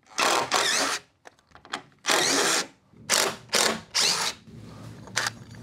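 Power drill driving a screw into a wooden roof rafter, heard as several short loud whirring bursts of about half a second each with brief pauses between, close and alone with no talking.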